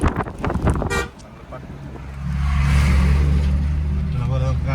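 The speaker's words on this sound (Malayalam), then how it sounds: "ഹോണടിക്കും" A car horn toots briefly on a rough mountain road near Sonamarg, followed by a louder, steady engine drone as the vehicle climbs, with a second short honk near the end; voices talk over it.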